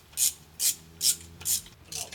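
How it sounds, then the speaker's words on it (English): A nut being done up on a Toyota Land Cruiser differential gives five evenly spaced, close rasping strokes, each a short scraping burst with quiet gaps between. "Then we have the nut, which will now do up."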